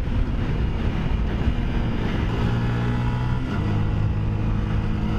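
An MRF Masseter race car lapping a track, its engine droning steadily and loudly throughout with a constant low roar and no talk.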